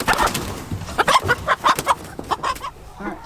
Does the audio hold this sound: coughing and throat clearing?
no